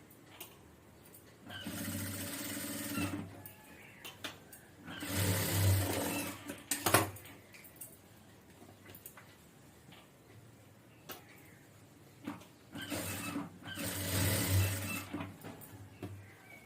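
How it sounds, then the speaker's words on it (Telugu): A sewing machine stitching a blouse seam runs in three short bursts of whirring, separated by quiet gaps, fairly close and moderately loud. "ఇలా రెండో కుట్టు కూడా ఇలా కుట్టేసి రఫ్లు ఆపుకోవాలి"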